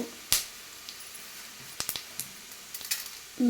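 Chana dal, coriander seeds, cumin and lentils frying in a pan, a soft background sizzle punctuated by sharp pops and crackles of seeds, close and intermittent.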